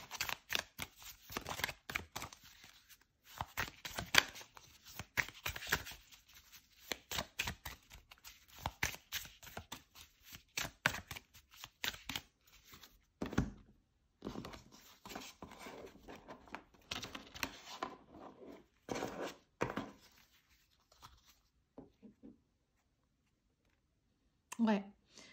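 Tarot cards are shuffled and drawn in a rapid flurry of crisp riffling clicks that thins into scattered taps and slides, close and quiet, with a voice talking between bursts.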